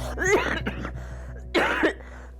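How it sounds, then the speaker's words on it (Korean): A person with a severe, persistent cough from pneumonia-type respiratory illness coughs in two harsh close bursts, separated by a short pause. "장기침이 너무 심하고 기침이 멈추지를 않는 거예요"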